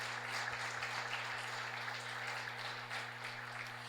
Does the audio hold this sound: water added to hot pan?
no